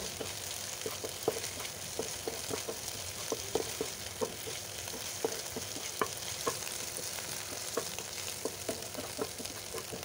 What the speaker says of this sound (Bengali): এরপরে সবগুলো সুন্দর করে ভেজে নেব